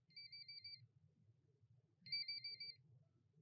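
A phone's electronic ringtone sounds for an incoming call, two short bursts of steady trilling tones separated by a gap, clear but moderately quiet over a low background hum.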